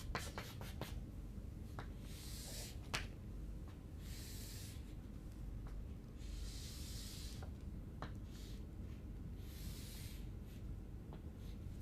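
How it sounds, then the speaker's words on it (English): Pen or marker sketching on a surface during a fluid flows lecture, quiet scratchy strokes and taps in short bursts with pauses, faint and close, no talk. "let me get you a better quality sketch here"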